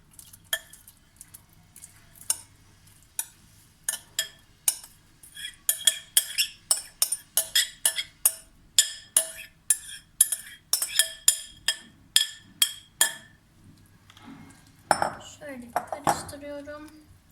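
A spoon stirs a pot of chopped greens close by, clinking and scraping against the metal in a quick, steady rhythm, then softens into a brief shuffle near the end.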